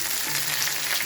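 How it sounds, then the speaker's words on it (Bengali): Potatoes and eggplant fry in oil in a pan, giving a steady, even hiss of sizzling that holds at constant strength for about a second, with no voices. "আলুটা ভাজা ভাজা হয়েছে, বেগুনটাও ভাজা ভাজা হয়েছে"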